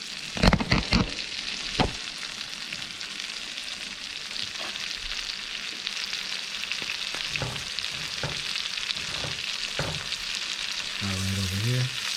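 Gulf shrimp sizzling and frying in a hot pan for a Thai-style dish, a steady crackling hiss with scattered pops and a few clanks of stirring near the end.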